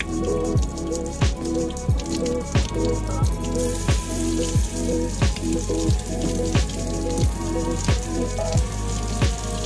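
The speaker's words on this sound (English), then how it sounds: "we're just gonna rinse it off in the sink really quick" Laser-engraved electroplated pot metal is rinsed under running water in a sink, giving a steady splash with regular dripping, squishy pulses close by.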